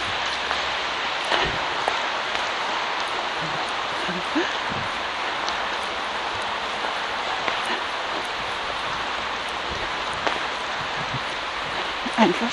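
Rain falling steadily in a forest, a dense, even hiss that continues for the whole stretch with a few faint scattered drips and rustles, no voices.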